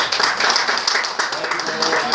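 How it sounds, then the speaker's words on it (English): A church congregation claps hands together during a service, producing a dense, steady patter of many claps that continues for the whole stretch and stays fairly loud throughout. "Let's give the Lord a hand clap."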